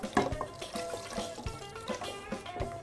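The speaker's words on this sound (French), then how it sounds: "Et on va venir ajouter un peu d'eau." Water is poured into a pot of shorba soup during cooking, with a splashing trickle and scattered clinks and knocks from the pan and utensils, close up.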